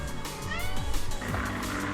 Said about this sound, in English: I have 3 cats now.